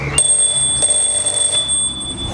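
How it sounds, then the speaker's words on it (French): A newly installed electronic doorbell rings with a steady high tone, struck a few times in quick succession, fairly loud against a low background hum. "Ma sonnette, elle fonctionne."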